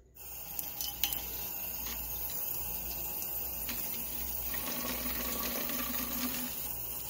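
Water runs steadily from a tap into a bath, a continuous close gushing with faint clinks near the start and no talking.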